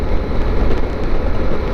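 A Yamaha Super Ten motorcycle rides over grass, a loud, steady engine drone with wind rumble filling the short stretch, no voices.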